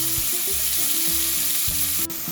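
Two finely chopped onions fry in hot oil with crackled cumin in a kadhai for a dhaba-style soya tikka masala, giving a loud, steady, close sizzle that runs unbroken throughout.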